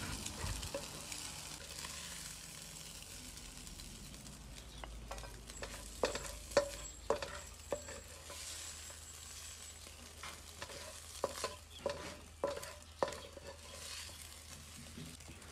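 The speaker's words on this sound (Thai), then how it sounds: "เราก็ค่อยๆตีไข่ให้แตกแบบนี้ค่ะแล้วก็ทำจนกว่าไข่จะสุกนะคะ" Beaten eggs being stirred and fried in a pan: a quiet sizzle with a series of sharp spatula scrapes and taps in an irregular rhythm, with no talk.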